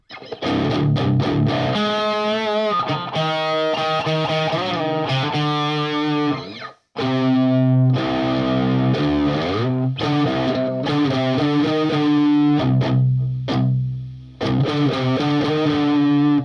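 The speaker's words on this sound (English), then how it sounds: "So much distortion." A heavily distorted electric guitar plays sustained, gritty chords and bends, with a brief cutout partway through and no talking.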